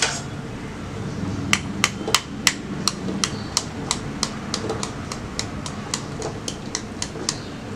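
A hen's egg shell being cracked at its top during stuffed-egg preparation in a home kitchen, heard as a steady run of roughly twenty sharp, close taps at an even rhythm, with no talk.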